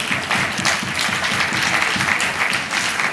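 Women in an audience applaud a speaker at a public event, with dense, continuous hand claps that stay loud and sustained throughout.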